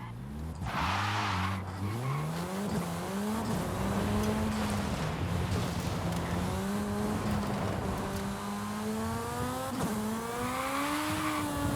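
A tiny car in Forza Horizon 5 runs downhill, its small engine whining and rising in pitch with throttle while tires squeal and skid in long sustained slides, loud and continuous with no talk.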